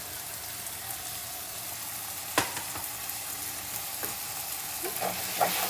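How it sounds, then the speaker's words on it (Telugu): Ground masala paste frying with tomatoes in a pan for a bean masala curry gives a steady low sizzle, with occasional sharp clicks of a spoon scraping and stirring. No voices. "ఇది మంచిగా ఫ్రై అయిపోవాలండి"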